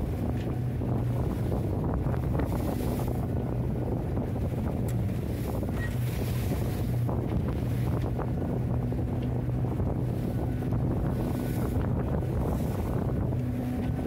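A sailboat plows through building waves in strong wind, giving a steady, loud wash of water and wind buffeting the microphone for the whole stretch, with a low hum of the hull running underneath.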